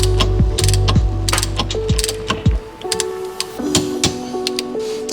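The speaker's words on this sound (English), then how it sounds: "for putting it back on, we're gonna torque it to 38 foot-pounds." Ratcheting torque wrench tightening the steering wheel bolt on a Toyota MR2 Spyder to 38 foot-pounds, with a close, loud series of quick mechanical clicks in bursts, pausing and resuming.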